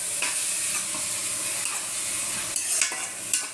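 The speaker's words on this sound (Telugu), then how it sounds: "అల్లం వెల్లుల్లి పేస్ట్ వేసేస్తాం." Ginger garlic paste sizzles in hot oil for a chicken curry, a steady close frying hiss with a few scraping stirs near the end and no talk.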